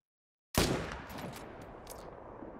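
A single loud .300 rifle shot in the hunting game TheHunter: Call of the Wild cracks sharply after silence, then trails off into a long, rolling echo that fades slowly.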